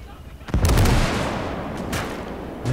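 Artillery shells bombard the ground in the Gates of Hell real-time strategy game, a loud booming impact bursting in suddenly and rumbling on with scattered blasts and a renewed thud near the end.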